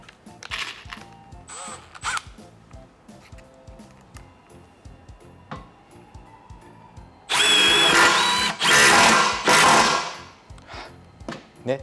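A Milwaukee M12 FQID silent impact driver drives a screw, starting with quiet intermittent whirring and ticks, then breaking into a loud, harsh burst of rapid impacting near the end, with brief pauses between bursts.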